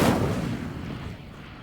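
Incendio fire spell cast in the Hogwarts Legacy video game: a single heavy whooshing blast with a boomy low body that swells at once and then fades slowly over a second and a half, loud and alone.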